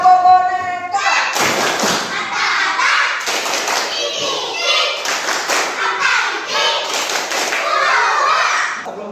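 Children at school do the 'tepuk boneka' clapping chant, with loud rhythmic claps and thumps under chanting young voices, nearby and continuous.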